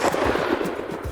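A hunting rifle shot at a buffalo on an African safari hunt, a loud, close burst of gunfire that rings out and fades over about a second, with no talk.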